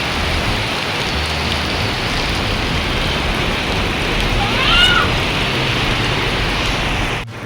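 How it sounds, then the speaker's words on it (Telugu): Heavy rain pours down steadily on a rainy day in Ameenpur, a dense, constant hiss of downpour with no talk, holding at an even loud level throughout before dropping off abruptly at the very end. "ఈ వర్షం అంతలా ఉంది, మరీ దారుణంగా."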